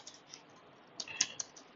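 Keys clatter on a computer keyboard as a router command is typed, a short run of light, close clicks with a quick burst of sharper taps near the end.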